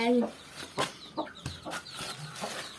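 Hens in a coop with their chicks give short, repeated clucks and calls, close and moderately loud, with a brief higher call at the start and a few more clucks following in uneven rhythm.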